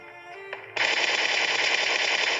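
Video game gunfire: after a brief tone, a loud, sustained burst of rapid automatic fire runs steadily to the end.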